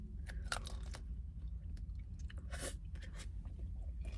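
Close, quiet chewing and crunching of a fast food biscuit dipped in a sauce, with irregular bites and soft squishy mouth sounds over about four seconds, no speech.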